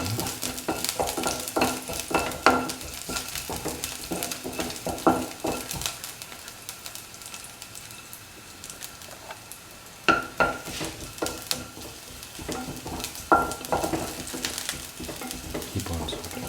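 Garlic pieces sautéing in a pan for chicken pasta soup, steady sizzle with repeated spoon scrapes and clinks as it is stirred, a quieter stretch in the middle before stirring resumes.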